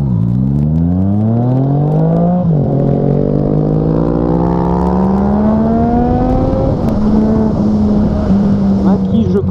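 A Yamaha MT-09 motorcycle accelerates hard on a test ride. The engine is loud and close, with rising revs that dip at a gear change and then climb again. Wind rush runs throughout.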